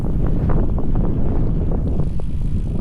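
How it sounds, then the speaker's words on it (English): Strong crosswinds buffet the microphone at Rohtang Pass, a steady loud roar of wind noise with rumbling gusts filling the whole stretch, no voices heard. "there was a lot of wind, crosswinds"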